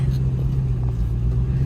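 A 1975 Chevrolet Camaro pulling down the road, its engine holding a steady low drone with a muffled rumble, heard from inside the car with no talk.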